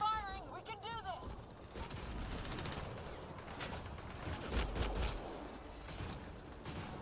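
Sustained video game gunfire, with shots and mechanical clatter crackling fairly quietly under a busy mix that includes a voice and warbling tones early on.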